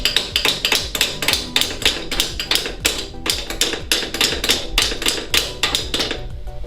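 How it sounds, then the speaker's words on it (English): Repeated sharp metallic hammer strikes on a stuck coilover part of a Mazda RX-7 FC3S, loud and close, in an uneven rapid rhythm with short pauses between bursts. "Always use the right tool for the job. That is a hammer."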